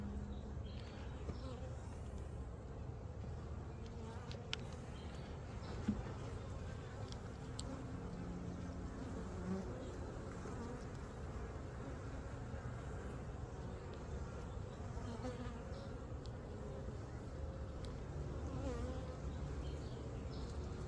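Honeybees drone around an open beehive during a hive inspection, a faint, continuous, even buzzing with occasional slight bumps and no voices.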